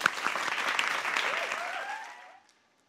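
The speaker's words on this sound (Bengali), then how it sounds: "একটা হাততালি" An audience at a televised Eid special reality talent show breaks into applause, a dense burst of clapping that holds steady for about two seconds, then fades away to silence.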